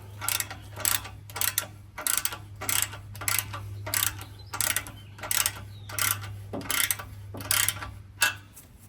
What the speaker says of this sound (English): Slide that clamp up, and we're gonna tighten it up